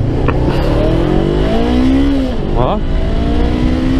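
A Honda CBR500R motorcycle engine accelerates hard, its rising drone climbing in pitch, briefly dropping at a gear change, then climbing again, loud and close under wind noise with a rider speaking briefly.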